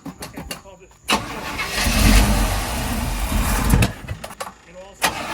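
A 1984 GMC Square Body truck engine cranks and catches, running loud and rough for about three seconds before it dies. Voices talk before and after the run.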